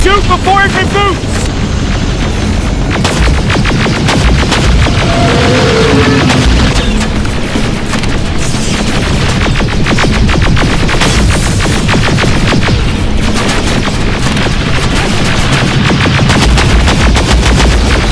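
Dense, loud gunfire and booming blasts from the video game Terminator Resistance rattle continuously, rapid shots layered with explosions and rumble throughout, with a voice briefly calling out at the start.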